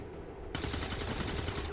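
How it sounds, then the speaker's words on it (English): XCOM 2 soldier on Overwatch opening fire on an enemy: a sudden, fast, rapid-fire burst of gunfire that starts partway in and continues steadily, fairly quiet in the mix. "my guy is on Overwatch mode, so in the second these guys move, he's going to shoot at one of them"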